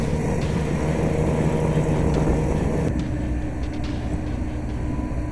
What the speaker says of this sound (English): It is a Swedish-built amphibious vehicle that cuts and gathers Phragmites